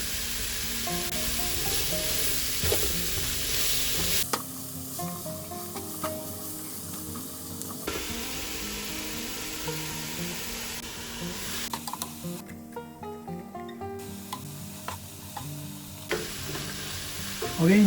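Salmon fillets seasoned with salt, paprika and pepper sizzle and fry steadily in a pan, with occasional stirring or shifting sounds, close and continuous without talk.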